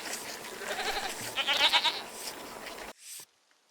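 A goat bleats in the video game Season: A Letter to the Future: a few close, wavering, nasal cries rise over a soft ambient bed, then the sound cuts to near silence.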